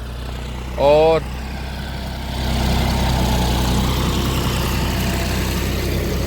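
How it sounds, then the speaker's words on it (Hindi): A tractor pulls an MB plough through a field for deep ploughing, its engine a steady low drone that grows louder after a few seconds, with a brief spoken word near the start. "गहरी जुताई यहाँ ट्रैक्टर के माध्यम से हम करा रहे हैं"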